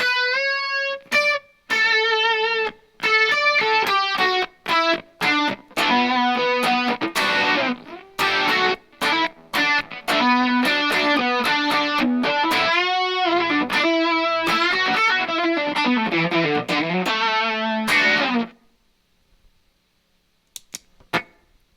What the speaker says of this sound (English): when I pair it with the Kernom instead of the Protein, it's got that classic lead chorusy tone with the Rockman